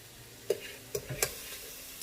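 Onion and butter simmering in a pan, a soft steady sizzle with a few sharp clicks and taps from a utensil, close by and with no talk.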